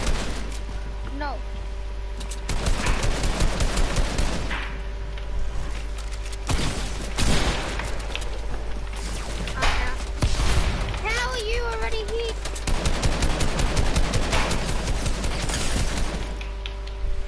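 Video game gunfire pops in rapid bursts and scattered shots, loud and close, mixed with game sounds while a player talks over much of the action.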